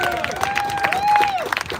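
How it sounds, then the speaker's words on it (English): Audience at a press conference for a bill signing breaks into applause with cheering and a long whistle-like call riding over the crowd noise, loud and close for under two seconds. "That deserves applause."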